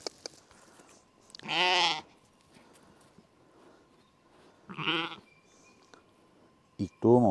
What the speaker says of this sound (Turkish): koyunu, kuzuyu götürelim